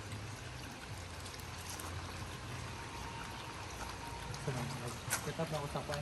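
Water pouring steadily into a swimming pool, a continuous rushing splash throughout, with people talking faintly over it.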